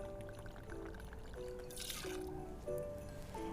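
English Silent Pool gin poured for a cranberry martini, a soft close trickle with faint liquid drips over a quiet room, accompanied by brief tonal ringing tones.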